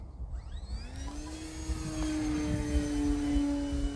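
An HK Durafly Tundra V2 RC plane drones steadily in a stall turn, its motor tone holding and swelling louder against outdoor wind noise.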